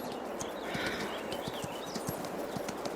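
Steady clip-clop of horse hooves at a walking rhythm in Farming Simulator 22, close and moderately loud, with a faint whinny-like tone over a soft background hiss.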